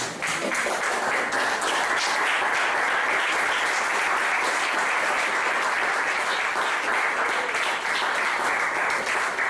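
A church congregation applauds in praise to the Lord after being seated, a thick, continuous wash of many hands clapping, loud and unbroken for the whole stretch.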